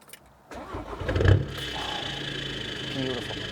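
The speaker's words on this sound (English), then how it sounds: "let's actually start the car up and have a pop" A Volkswagen Golf MK7 GTD starting up close by: a brief quiet pause, then the starter cranks and the engine catches with a swelling rev before settling into a steady, even idle.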